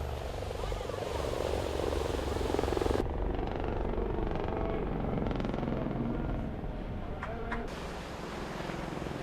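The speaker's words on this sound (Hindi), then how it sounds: "ब्राजील के साहिल पर हेलीकॉप्टर से करतब का शानदार मुजाहरा।" Helicopters perform aerobatic stunts over a Brazilian beach, a steady loud rotor and engine drone with low thumping persisting throughout, its character shifting at edits partway.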